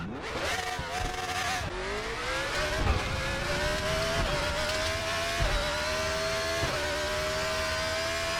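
A race car engine in the RaceRoom sim-racing game drones loudly and continuously, its pitch climbing through the gears with brief dips at each downshift and gear change, sustained throughout.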